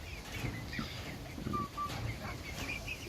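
A Cochin bantam rooster clucks softly in an aviary among other fowl, short low clucks scattered over a few seconds with faint chirps around it, fairly close but quiet.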